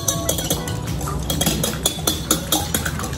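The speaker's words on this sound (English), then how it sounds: "I'm gonna whisk it now" A whisk beats cake batter with eggs in a bowl, rapid rhythmic metallic clinks and scrapes against the sides, close and steady throughout.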